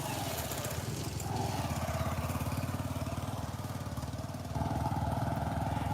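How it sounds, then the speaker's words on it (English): A motorcycle engine rumbles steadily outdoors on a mild day, staying fairly close and loud throughout, with its pitch and volume swelling again near the end as it rolls past. "motorcycle coming"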